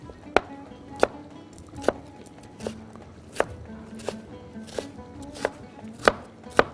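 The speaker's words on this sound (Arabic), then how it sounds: "بقطعه كده برنواز صغير" A knife chops watermelon rind into small brunoise dice on a cutting board, about ten sharp, evenly spaced knocks heard up close with no talking, during preparation of candied fruit.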